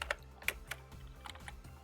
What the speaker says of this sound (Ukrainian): Тривалість поїздки будемо вводити з клавіатури.